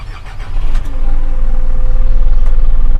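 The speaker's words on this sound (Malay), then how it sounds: "Kita start enjin." An Isuzu NPR150 truck's 4HL1 diesel engine turning over and catching inside the cab, settling into a loud, steady, rough rumble.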